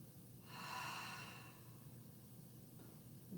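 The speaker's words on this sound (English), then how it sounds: "Open the mouth, exhale audibly." A single audible exhale through an open mouth during a yoga breathing exercise, a soft breathy whoosh that rises and fades over about a second in a quiet room.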